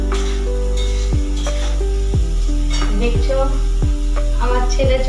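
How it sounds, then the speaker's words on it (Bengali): Potatoes frying in a home kitchen pan, a steady close sizzle with repeated scraping stirs and light clinks of utensil on metal, a few spaced strokes while someone talks over it. "আমি আলু ভাজছি"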